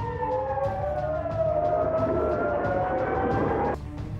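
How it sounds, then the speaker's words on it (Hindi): Air raid sirens wail across Israeli settlements during a Hezbollah attack, several overlapping tones slowly sliding downward in a loud, sustained drone that stops abruptly near the end. "बताया गया कि हमले से कई इजरायली बस्तियों में सायरन बजने लगे।"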